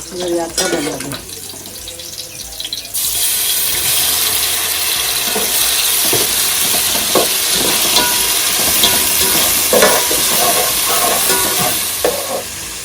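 Onion with homemade ginger-garlic paste and masala fries in a pan for a village-style country chicken mutton dish, a loud, continuous sizzle with frequent stirring scrapes after an opening clatter.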